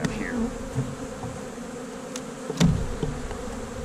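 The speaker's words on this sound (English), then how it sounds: "Besides angry bees." Angry honey bees buzz loudly and close by during a hive inspection, a continuous droning hum with a few sharp bumps and knocks from handling the frames.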